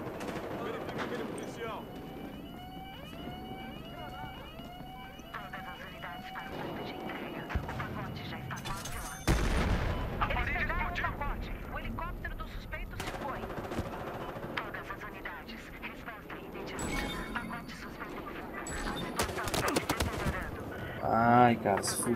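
Bursts of gunfire from the video game Battlefield Hardline in heist mode, with rapid shots and louder blasts scattered over game sound effects, mixed with a voice talking.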